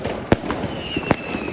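New Year's street fireworks and gunfire in Berlin: two sharp, loud bangs stand out above a constant background of distant crackling and rumbling pops.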